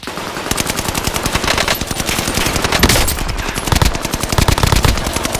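Bren light machine gun fire in the Call of Duty: Modern Warfare video game, rapid loud bursts of shots in quick succession that fill the whole clip with almost no pause.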